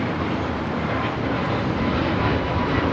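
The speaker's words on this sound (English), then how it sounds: "This is American Airlines Flight 1105 taking off to Charlotte on the A321neo" American Airlines A321neo roaring through its takeoff roll on runway 25R at Los Angeles International, a loud, steady broadband jet engine rumble filling the air without a break.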